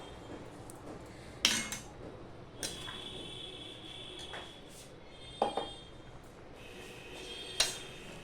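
Dudh shukto being mixed with ghee in a pan, quiet scraping with a few distinct spoon knocks against the metal spaced several seconds apart.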